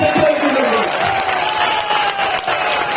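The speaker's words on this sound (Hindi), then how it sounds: "ऐसी तालियां बजाओ, ऐसी तालियां बजाओ कि अमित शाह जी को अहमदाबाद की याद आ जाए।" A large crowd claps continuously at an election public meeting in Piparai village held for Home Minister Amit Shah, a dense and steady roar of applause with a faint voice or tone running underneath.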